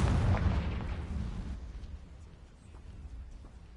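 A Confringo blasting spell explodes in Hogwarts Legacy, a heavy low boom that rumbles at first and then fades into quieter scattered debris and ambience.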